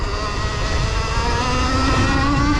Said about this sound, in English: I think the bike is loud enough,